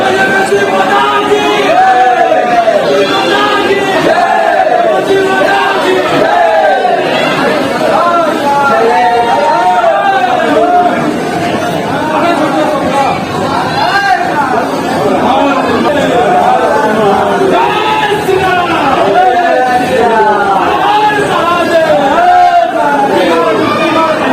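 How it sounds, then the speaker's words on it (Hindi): Pilgrims at the Yamunotri temple shout devotional slogans together, a dense crowd of voices rising in steady overlapping chants and chatter that fill the whole stretch without a pause. "अभी आप सुने जय माँ यमुनोत्री, जय श्री राम, जय माँ गंगे, सबका उद्घोष जयकारा लोग लगा रहे थे"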